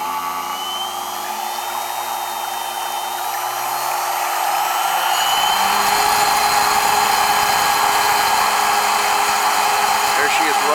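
Arde Barinco laboratory homogenizing mixer on 120-volt single-phase variable speed control, a loud, close, steady high-pitched whine that climbs as it speeds up toward 12,000 RPM, then settles into a constant roaring drone.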